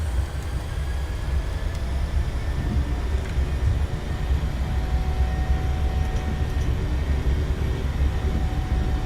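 Jet engines of a PMDG Boeing 737-800 in a flight simulator spool toward takeoff thrust, giving a steady, loud, low roar with a thin high whine running continuously throughout.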